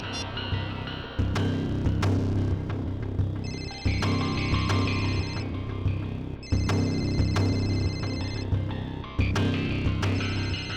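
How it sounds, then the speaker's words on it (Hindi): An electronic phone ring repeats in regular bursts over a steady low hum, the ringing tone returning every couple of seconds throughout, in a TV crime drama scene. "ये जो बेल बज रही है, इसी नंबर से फोन आया था।"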